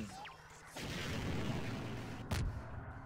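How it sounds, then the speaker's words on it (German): Explosions and gunfire in the video game Trouble in Terrorist Town: a rumbling burst of booms with a sharp blast near the end, fairly faint overall. "Alles explodiert, Mann."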